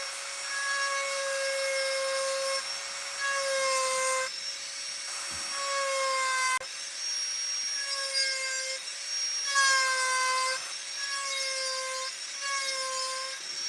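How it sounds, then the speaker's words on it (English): A Dremel-style micro motor carves an upper eyelid into a wooden ghost carving, giving a steady high whine whose pitch dips and rises as the bit bites into the wood. The sound is alone and close. "I'm just going to use the Dremel or the micro motor here."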